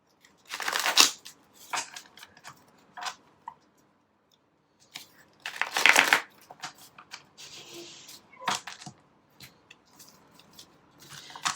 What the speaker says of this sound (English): I'm just going to jump over to these cards here. Flip them, flip them.